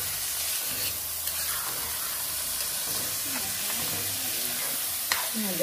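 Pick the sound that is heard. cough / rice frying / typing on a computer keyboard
rice frying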